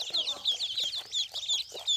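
Newly hatched Liang ducklings in an incubator give a busy chorus of rapid, high, repeated peeps from several chicks at once, close and continuous.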